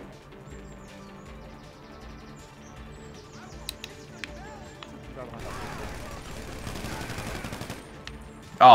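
Gunfire during a Fleeca Job heist in the video game GTA 5 Online: scattered sharp shots early, then a denser stretch of rapid firing, set against a low game soundscape, ending with a loud burst.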